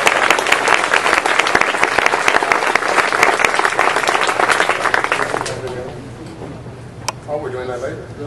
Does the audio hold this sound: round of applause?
yes